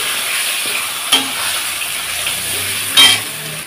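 Snakehead fish frying in oil in a pan, giving a steady close sizzling hiss broken by two short metallic clinks of a utensil, with no talking.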